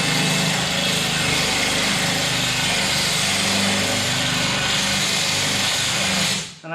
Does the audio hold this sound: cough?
no